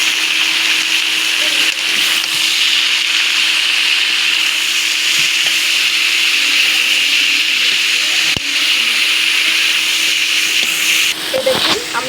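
Vegetables frying with browned onions in a pan give off a continuous loud hissing sizzle, with occasional scraping strokes from stirring and a faint voice underneath.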